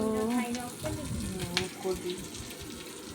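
Chopped onion and green chili fry in a pan with a soft, even sizzle beneath a voice talking over most of the stretch.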